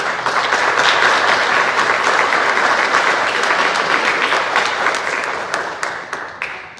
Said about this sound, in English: definitely a round of applause for yourselves